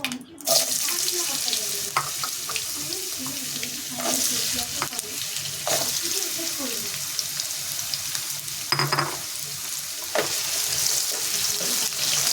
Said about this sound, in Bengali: এবার দেবো আলুটা ভেজে আমি আগে তুলে রাখবো